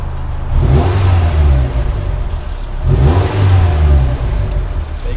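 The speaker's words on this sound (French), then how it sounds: "Mets des coups de gaz pour voir." A Renault Megane engine revs loudly twice, each burst rising and then settling back toward a rough idle, close by.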